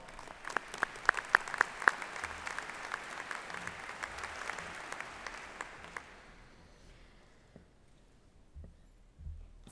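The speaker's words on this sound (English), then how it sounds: "so give them a round of applause" Audience applause at a high school commencement, a thick burst of clapping with a few sharp nearby claps and whoops, swelling then fading away into quiet room tone with a few low thumps.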